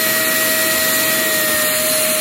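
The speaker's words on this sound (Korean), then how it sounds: "일로 바람이 나오고 있어 이쪽으로 이쪽으로 바람이 엄청 나오고 있어" Air rushing steadily from the valve of a deflating premium camping air mattress, a loud continuous hiss with a faint whine, close up and alone.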